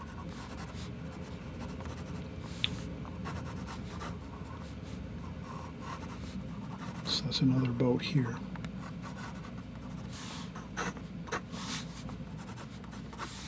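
A pencil scratches and rubs across paper while a nautical scene is drawn, making soft, irregular scribbling strokes with a busier burst of quick strokes midway, heard close under someone talking.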